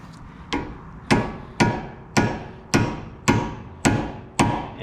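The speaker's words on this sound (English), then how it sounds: "Go ahead and get yourself a chisel or a flathead screwdriver or whatever you got." Steady hammer blows on a chisel staking a Mazda 3 CV axle nut into the axle groove, seven sharp metallic strikes about half a second apart, close and loud with short ringing decay, no talking.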